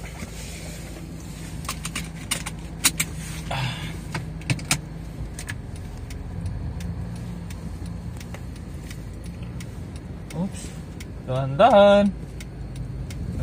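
Cars pass along a road, ending with a large vehicle rumbling by near the end, over steady background noise, scattered clicks and a voice speaking Filipino.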